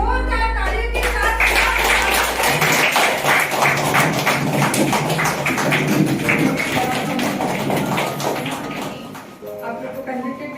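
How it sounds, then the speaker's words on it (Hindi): A workshop audience claps together at length, a dense, steady patter of many hands that holds for several seconds before thinning out, with a brief tone and some background voices near the start. "तो जोरदार तालियों के साथ"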